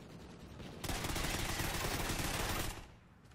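Automatic gunfire from the video game Call of Duty: Ghosts: one loud, dense, continuous burst lasting about two seconds that begins abruptly and then tails off into quieter game ambience.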